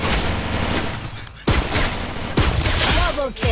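Rapid bursts of gunfire in a shooting video game, several sharp loud volleys with short gaps between them, heard close over faint background game sounds.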